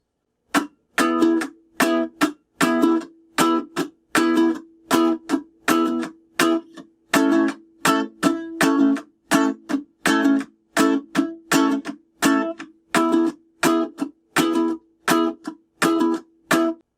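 Ukulele strummed in a steady, evenly spaced rhythm for the verse of a song, each stroke a crisp chord with short gaps between, played alone at close range.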